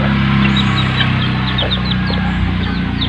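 Young chicks cheep and peep in quick, high repeated calls while being bathed, fairly close over a steady background of running water or hum, with no talk.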